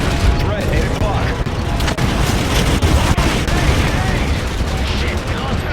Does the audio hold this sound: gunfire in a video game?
yes